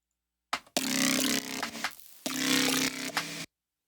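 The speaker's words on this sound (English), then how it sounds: "then for the effects, I'm using distortion, compression, EQ with two peaks that are getting automated by the LFO, and then hyper and some reverb," A heavily processed synth playing two loud, sustained bursts with a short gap between them, thick with distortion and compression, its tone swept by LFO-automated EQ peaks and trailing into reverb, then cutting to silence.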